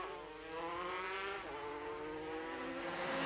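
Racing motorcycles at the Southern 100 road race, including a Yamaha, howl past at high revs, a loud sustained engine whine shifting pitch as the bikes sweep by close.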